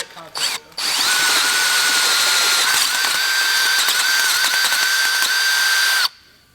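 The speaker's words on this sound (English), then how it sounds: "So I'm going to go ahead and ream that hole now." A power drill drives a reamer through the ball joint hole of a Chevy Silverado truck spindle during a drop kit install, a steady loud whine running about five seconds after a couple of short starts.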